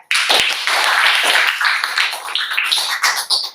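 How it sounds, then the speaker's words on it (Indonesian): Dense applause from a group of students in a university class fills the whole stretch, steady and fairly loud, with a few sharper claps standing out. "Tepuk tangan untuk Dea."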